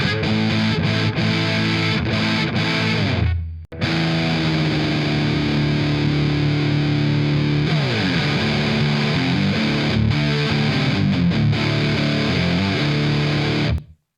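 Heavily distorted electric guitar chords through a Jed's Peds Obsessive Compulsive clipping pedal in low-pass mode, thick and saturated with a dark, muddy low end, played continuously with a brief cut near the start and fading at the end.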